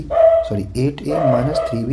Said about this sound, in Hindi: ये कुत्ते भी ना